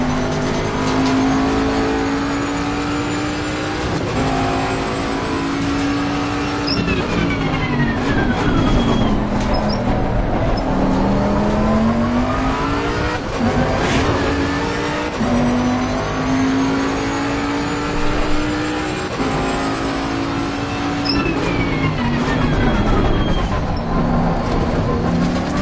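A race car engine roars continuously at Zolder in Assetto Corsa Competizione, loud and up close, its pitch sweeping up through gears and dropping under braking with tyre and road noise beneath, no talking.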